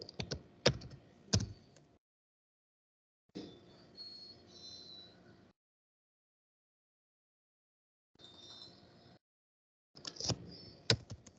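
Someone types into a computer search box, close clicky keystrokes in short separate bursts with silent gaps between them, a couple of sharper key hits at the start.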